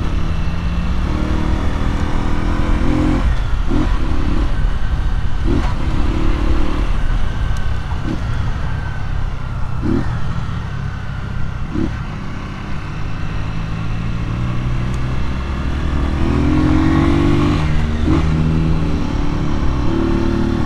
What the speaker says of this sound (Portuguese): Acabei de fazer o rolê com a motinha do Juliano